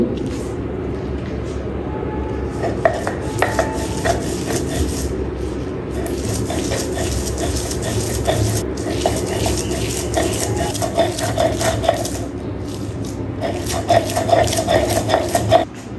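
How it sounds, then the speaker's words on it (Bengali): Boiled stem leaves from a rooftop garden are ground into a paste, giving a steady scraping, rubbing rhythm with occasional knocks against the grinding surface, close by and continuous. "এই ডাটা পাতাগুলি যেটা সিদ্ধ করে রাখছি, এখন এটা বেটে নেব।"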